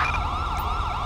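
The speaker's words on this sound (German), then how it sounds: "Wir machen ganz schnell die Sirene aus bei unserem Fahrzeug." A police car siren in the video game LSPD:FR wails, sweeping up and down in a steady repeating cycle, loud and close, with a low engine rumble underneath and no talking.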